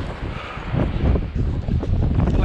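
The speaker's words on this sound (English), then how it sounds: "A bit windy." Wind buffets the microphone near the Seven Sisters on the Sussex coast, a steady loud roar with gusts swelling louder partway through, with no voices.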